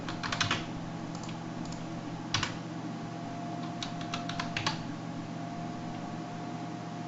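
Keys clatter on a computer keyboard as a command is typed into a terminal on Ubuntu 18.04, short bursts of quiet clicks separated by pauses over a low steady hum.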